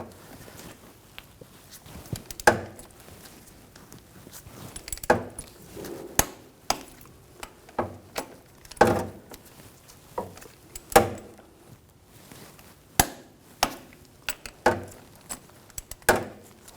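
A wrench tightens driveshaft coupler bolts on a BMW X5 in a quiet garage, producing scattered sharp metallic clicks and clinks, some louder than others, spaced irregularly across the stretch.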